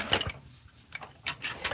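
Sewing machine stitching baby gift fabric in short bursts of quick mechanical ticking, with soft gaps between; close and fairly quiet.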